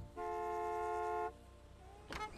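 A car horn honks in a single long, steady blast in Gas Station Simulator, followed by a short second toot a moment later, loud and alone.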